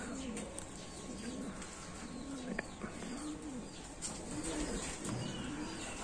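Pigeons at a loft with a trapdoor, out in hot midday weather, give a series of low, rolling coos roughly every second or so, fairly close, over a steady outdoor hiss with a few faint chirps and no talking.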